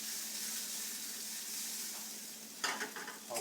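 Shredded pork filling for empanadas sizzles steadily in a frying pan while being stirred and shaken, a continuous close frying hiss with a burst of scraping, clattering stir noises near the end.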